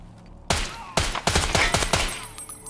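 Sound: gunfire in the video game Escape from Tarkov

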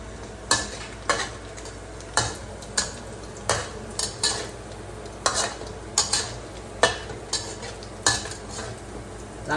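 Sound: stir-frying until fragrant

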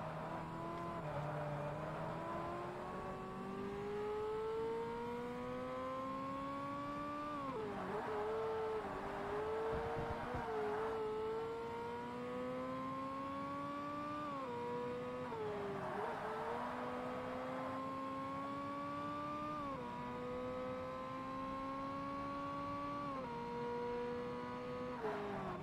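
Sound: Ferrari 360 Modena engine in Forza Motorsport video game

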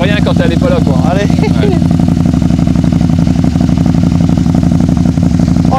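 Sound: motorcycle engine with exhaust pipe running

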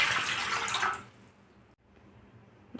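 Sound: water being poured into semolina

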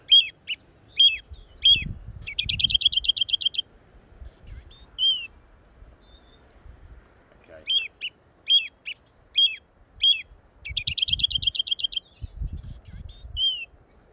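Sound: various wild birds calling

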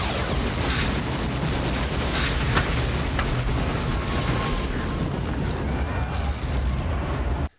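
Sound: explosion in a played video clip

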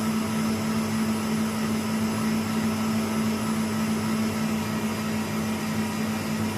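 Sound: electric mixer whipping pumpkin-apple marshmallow mixture

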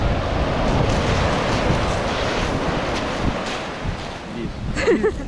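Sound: sea waves with wind

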